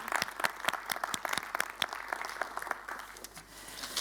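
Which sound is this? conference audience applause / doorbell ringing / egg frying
conference audience applause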